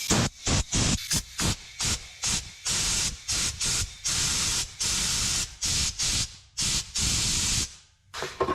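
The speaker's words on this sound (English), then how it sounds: "I'm just going to take my air hose and just put it right there on that fitting" Air hose blasting through brake line fittings to clear them, a loud harsh hiss in about twenty short bursts of varying length separated by brief silences, up close.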